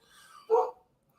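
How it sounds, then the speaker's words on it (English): A dog gives one short bark from a moderate distance, preceded by a soft, breathy rustle and followed by quiet. "Sorry about the dog barking."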